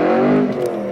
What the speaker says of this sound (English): That first gear pulled.